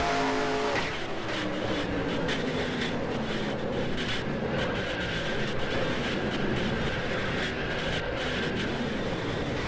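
Dense pileup of stock cars in the NASCAR Racing 2003 game, a continuous roar of many engines with scraping and clattering contact noise throughout, loud and steady with no pauses.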